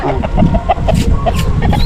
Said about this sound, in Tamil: மக்கள் வந்து வேண்டுதலைக்காக சேவல் வந்து விட்டுருக்காங்க